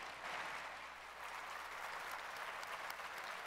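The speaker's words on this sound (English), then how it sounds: "Can we have a big round of applause for Daniel Boulud and his team?" Audience applause following chef Daniel Boulud's cooking demonstration in New York City, a steady, dense wash of clapping from a sizable crowd that holds evenly for the whole stretch, moderately distant and without voices on top.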